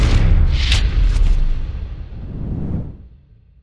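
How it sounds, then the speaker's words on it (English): A video game explosion in a Grand Theft Auto 5 firefighter mod: a loud, close boom with a sweeping whoosh and a heavy low rumble that holds for about three seconds, then fades away. "We have an explosion, guys."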